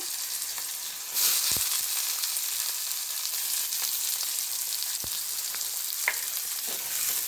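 Sliced onion and green chilies sizzle in hot oil with cardamom, cloves and cinnamon, giving a loud, steady hiss close by, broken by a few faint clicks and knocks from stirring.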